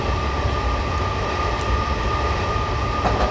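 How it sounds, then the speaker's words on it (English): A Metropolitan line train rolls past in Train Simulator 2018, a continuous loud rumble with a steady tonal hum and faint wheel clatter, with no voices. "There's another Metropolitan line train coming."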